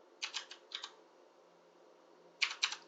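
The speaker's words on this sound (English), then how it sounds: "I would type in the title" Quick bursts of keystrokes on a computer keyboard, a short cluster of clicks, a pause of over a second, then another brief flurry, close and crisp in a quiet room.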